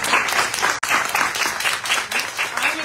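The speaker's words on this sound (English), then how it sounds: "can we please give these wonderful ladies a round of applause?" An audience applauds steadily after a panel discussion on diversity in publishing, a dense, even wash of clapping with one brief dip near the start.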